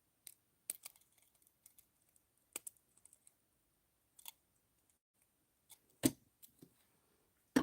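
Cutters snip through earring wire with small, sharp clicks spread sparsely over quiet, several isolated snaps close to the microphone with near silence between them.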